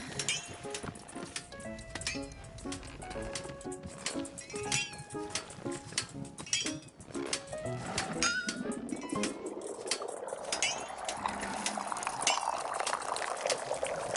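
Tea pours in the game Wanderstop. A soft clinking and tapping of cups comes first, then a rising liquid pour swells and fills the last stretch, with no speech.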